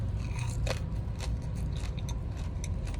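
Crunchy fried potato crackers, spicy-sweet and eaten with nasi uduk, crackle and snap in a few close, sharp bites over a steady low background hum.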